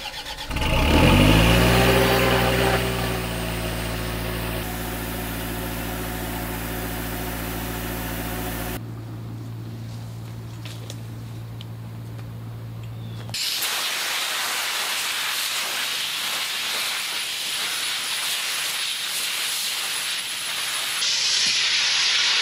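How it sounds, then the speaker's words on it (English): An air compressor starts up and runs with a steady loud drone, then an air spade blasts soil away from girdling roots at the base of a hackberry tree, giving a broad, harsh hissing roar that continues to the end. "What do you say we fire this compressor up and start blasting some soil away?"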